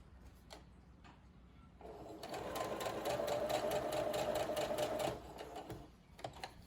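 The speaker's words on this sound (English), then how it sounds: "I'm just going to sew that" A sewing machine stitches elastic onto a fabric face mask, a rapid mechanical rattle that speeds up for about three seconds and then stops, with slow single stitches before and after.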